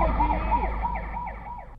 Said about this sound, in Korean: 그리고 사이렌 소리가 들렸어요.